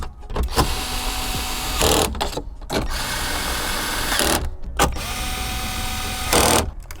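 Ratchet driving bolts back in on a Toyota during an interior upgrade, a close, steady stretch of fast clicking and whirring broken by a few short pauses.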